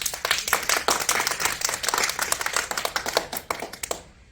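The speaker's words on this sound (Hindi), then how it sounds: "तो तालियां" Children clap for the village head as guest at a Republic Day gathering, a dense burst of close, uneven hand claps lasting a few seconds before stopping abruptly.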